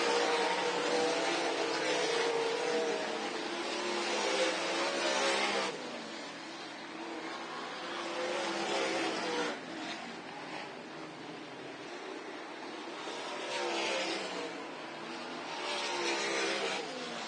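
Race cars roar around a dirt oval at a county fairgrounds, a continuous loud engine drone swelling and fading as cars push down the backstretch into the turns, steady throughout.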